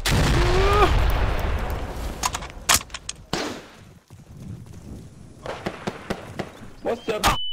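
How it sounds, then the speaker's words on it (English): Sharp broadband blasts from a grenade and gunfire in a Rising Storm-style multiplayer shooter, several bursts scattered over the clip with a loud opening stretch, mixed under radio chatter and occasional voices. "Grenade!"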